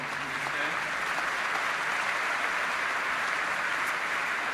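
Sustained audience applause at a conference opening debate, a steady dense wash of clapping from a large crowd filling the whole stretch without pause.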